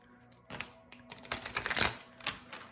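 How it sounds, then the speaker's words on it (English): Oracle cards from an Angel Guide deck being shuffled indoors, a run of quick papery riffles and slaps in short bursts, fairly close and moderately loud, with no one talking. "I instinctively always shuffle these."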